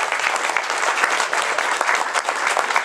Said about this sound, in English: So a round of applause, guys.